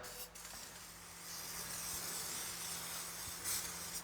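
A continuous close spray hiss from an aerosol nozzle spraying undercoating under a truck, steady with a few brief pauses and bursts.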